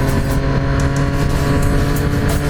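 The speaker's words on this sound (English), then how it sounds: "This one revs." A 2018 Triumph Street Triple RS 765 motorcycle engine revs hard and steady up close, with a loud, continuous droning engine note and wind roar.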